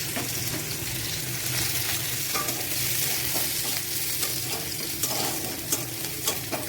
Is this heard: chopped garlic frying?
yes